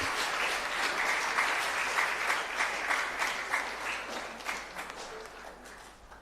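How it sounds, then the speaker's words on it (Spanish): A congregation applauds during a Catholic Mass at a parish church, a steady patter of many hands clapping that carries on for several seconds before slowly thinning out. "Un fuerte aplauso para la señora Ramona."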